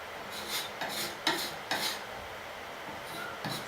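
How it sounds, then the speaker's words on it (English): Paint being scraped down with a blade during a paint-blending job, giving several short rasping strokes at close range, separated by pauses, with no talk. "So I'm just scraping down"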